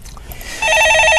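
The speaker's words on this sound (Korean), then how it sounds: "예, 전화 받아보겠습니다." A telephone bell rings steadily in a studio with a low hum underneath, starting partway through and continuing to the end.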